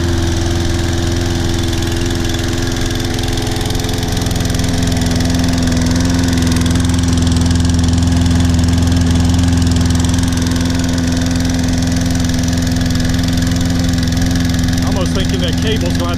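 Toro Personal Pace Recycler self-propelled lawn mower running on old gas, a steady low engine drone with strong vibration held throughout, loud and close, with brief talk in the background.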